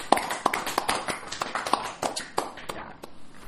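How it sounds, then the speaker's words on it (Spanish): Sparse hand clapping, a few people giving distinct, irregular claps close by, fairly soft with short gaps between them. "Ey, aplauso."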